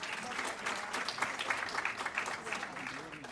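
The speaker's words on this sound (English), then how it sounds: "Another round of applause for her." Audience applause at a commencement ceremony, a steady sustained wash of many hands clapping at moderate volume, with a few voices murmuring underneath.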